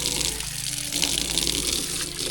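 Water being scooped from a village well in rural southern Laos, a continuous bright splashing and pouring rush of water, fairly close and steady, with no talking.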